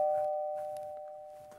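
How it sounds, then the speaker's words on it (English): A doorbell rings once indoors, a sustained electronic chime that rings out steadily and slowly fades, clear and fairly close, with faint room noise behind it. "Sorry guys, that's a doorbell."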